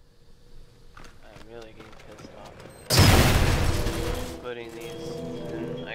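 In the video game Splinter Cell Chaos Theory, a sudden loud bomb explosion bursts out after quieter game sounds and murmuring voices, then its rumbling roar slowly fades.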